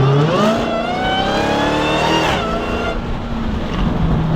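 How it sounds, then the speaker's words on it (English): Loud Dodge Hellcat engine revving with a high whine that climbs and then drops, followed by a rough steady engine rumble. "that's what makes your car whine louder"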